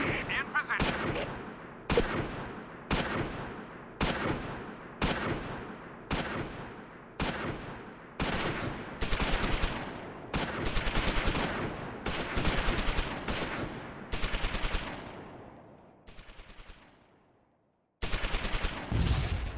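Repeated bursts of medium machine gun suppressing fire in the Close Combat 4 Battle of the Bulge game at Wiltz, about a dozen loud, evenly spaced rattling volleys, each decaying quickly, with a brief lull near the end.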